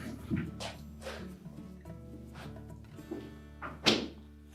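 A Frigidaire refrigerator door with a newly replaced hinge bearing opens with a soft thunk and later shuts with a firmer thud, with faint rattles in between and a low hum underneath.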